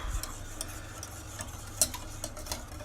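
A whisk works through a bouillon mixture in a pot for a butternut squash lasagna, producing soft, repeated scraping and ticking strokes with occasional sharper clinks against the metal.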